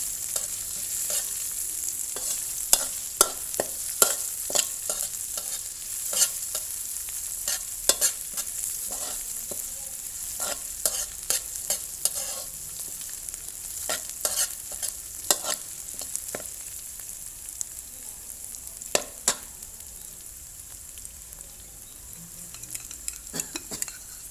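Chilies are stir-fried in a wok: irregular clicks and scrapes of a spatula against the metal repeat throughout over a faint, steady sizzle, with no talk.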